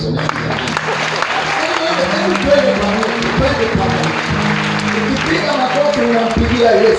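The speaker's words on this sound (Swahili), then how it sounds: "Ukipiga makofi" A church congregation at a Pentecostal conference claps steadily and loudly, a dense continuous patter heard together with crowd voices and talk throughout.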